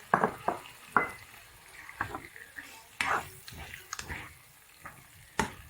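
Chicken liver goes into a hot pan for a tomato adobo and is stirred, giving a soft frying sizzle. Sharp utensil scrapes and clatters against the pan repeat irregularly, close up.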